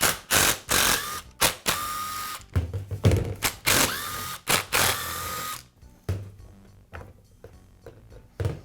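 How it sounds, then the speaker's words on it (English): Screws being backed out of the gearbox housing on a Milwaukee reciprocating saw during an armature bearing repair: a sequence of short, close whirring bursts from a small driver, separated by brief pauses, with no talk. "Now remove the screws that secure the gearbox to the tool."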